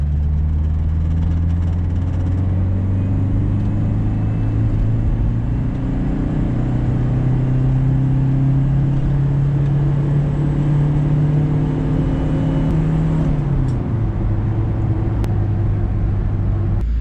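Ford Escort Express van accelerating hard in third gear, a loud close engine drone whose pitch climbs steadily for about thirteen seconds before dropping sharply as the throttle eases, with interior road rumble underneath.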